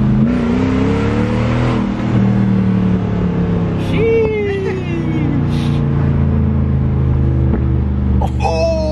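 A V8 Toyota 4Runner with its muffler deleted idles loudly nearby and revs in rising and falling roars with a small pop near the end, while people talk over it.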